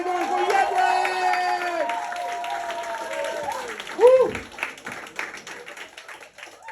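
A comedy-club audience in Berlin applauds and cheers a comedian taking the stage, clapping steadily under loud shouts, a whoop and an announcer's voice, with a sharp burst of cheering midway before the noise thins out.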